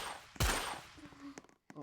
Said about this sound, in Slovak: Ja počujem, ako to strieľa.